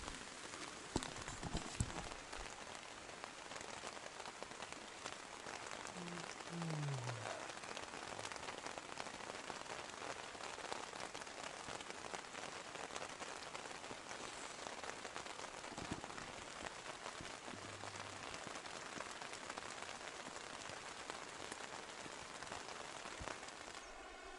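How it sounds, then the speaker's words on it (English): Continuous rain in the Siberian taiga, a broad even hiss of drops on surfaces with a few louder close impacts near the start and a brief low tone midway, no talking. "It rained all night and has been raining all morning."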